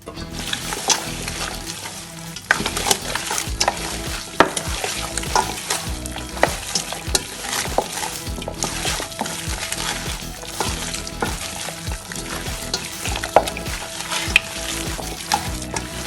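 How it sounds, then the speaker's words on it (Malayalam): Chicken pieces frying in a pan for a country-style chicken fry, a loud continuous sizzle mixed with repeated scraping and clattering as a utensil stirs them, with no voices. "നമ്മുടെ ചിക്കൻ ഇട്ട് കൊടുക്കാം."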